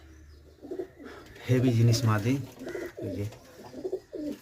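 Pigeons coo in soft, throaty bursts near the listener, their rolling calls repeating several times while someone talks over them.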